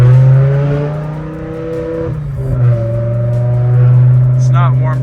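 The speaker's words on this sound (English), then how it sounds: "we'll do a little acceleration inside the car" Interior of a BMW E60 M5 with its V10 engine and windows mostly down, a loud steady droning tone that dips briefly as it shifts and then climbs again under accelerating, with a voice speaking over it.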